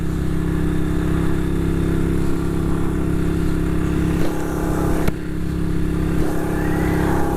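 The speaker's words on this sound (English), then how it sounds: "Bike's warming up now." A 1959 BSA motorcycle ridden on a cold road at about -3 °C, its engine droning steadily and loudly close up with wind rush over it, the pitch holding fairly even with slight rises as speed builds.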